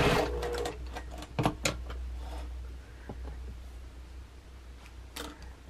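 A sewing machine stitches cut fabric pieces together, the ends held so the seam follows the cut edges; a steady mechanical whir runs close throughout, punctuated by a few sharp clicks and handling knocks.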